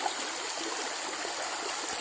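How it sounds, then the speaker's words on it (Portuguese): A stream of water running in a small river in the Brazilian sertão during the dry season, a continuous close rushing and trickling flow with no voices. "Vamos ver a água crescendo aí, ó."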